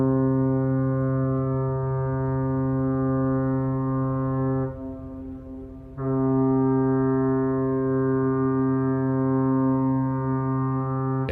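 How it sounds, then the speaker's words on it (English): A foghorn sounds in an old radio drama, a loud, steady, deep tone that holds for several seconds, breaks off briefly and then resumes. "A foghorn, sounding unceasingly."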